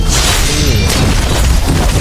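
Explosion in the Roblox game Hunty Zombies: a loud, dense burst of booming noise that fills the whole two seconds with a rough, crashing roar.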